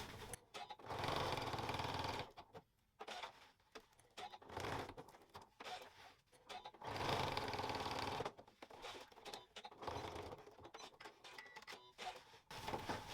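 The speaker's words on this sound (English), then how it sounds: "I'm just stitching a box around the outside of the Velcro." A sewing machine stitches a box around the outside of a Velcro strip, running in several bursts of close, steady mechanical whirring separated by brief pauses as the fabric is repositioned.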